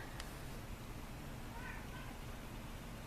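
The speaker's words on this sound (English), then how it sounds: "And the cats are talking to each other." Cats meowing back and forth indoors come through faint, with brief mewing calls partly masked by steady background hiss and room noise.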